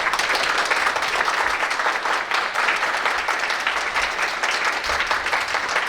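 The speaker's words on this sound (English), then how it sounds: "Please give them a warm round of applause" A warm, sustained round of applause for laureates at an Asian culture award ceremony, a dense even wash of clapping from a large seated audience, with no talk over it.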